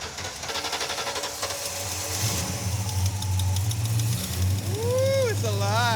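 A Ford Ranchero engine cranks, catches and settles into a rough, low rumbling idle that grows steadier and louder, while people talk and cheer over it.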